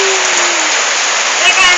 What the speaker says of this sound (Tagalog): Lakas ng ulan. Ayaw tumigil.